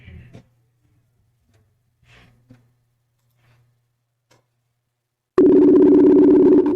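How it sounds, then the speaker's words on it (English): Outgoing phone call ringback tone: after a long near-silent stretch with faint clicks, a single loud, steady electronic ringing tone starts abruptly and holds to the end. "if you can hear that ringing, let me know."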